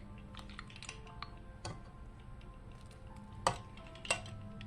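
Vanilla buttermilk cake batter is stirred in a kitchen, giving faint scraping with a few sharp clinks of utensil against bowl and a quiet steady hum underneath, and no one speaks.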